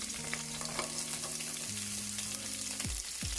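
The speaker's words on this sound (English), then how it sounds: "So we're gonna fry up the onions." Onions and scallions frying in a pan for Jamaican ackee and saltfish, a steady close sizzle with a few stirring scrapes, no talking.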